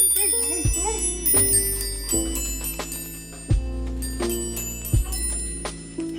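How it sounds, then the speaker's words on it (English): Mickey Marching Band Christmas bells chiming a tune as a Christmas decoration indoors, bright struck notes ringing out at a steady beat with a low thumping accompaniment, close and clear with no talking. "our most important Christmas decoration for the last week of Christmas, which are our Mickey Marching Band Christmas bells"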